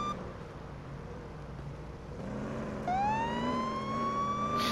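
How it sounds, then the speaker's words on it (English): Police car siren in the Police Simulator video game, starting faint amid engine rumble and then rising into a steady wail that stays fairly thin and moderate in loudness. "The siren's a bit underwhelming. I was hoping it'd be a bit more beefy and meaty"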